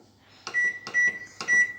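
A microwave oven beeping as it is set, with three short electronic beeps spaced about half a second apart over faint background hum.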